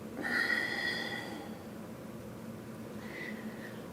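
A single soft, breathy exhale from a person during a yoga stretch, close and quiet, with a faint airy hiss trailing off and no talk.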